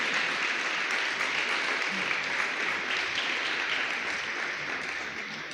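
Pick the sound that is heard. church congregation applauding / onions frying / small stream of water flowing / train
church congregation applauding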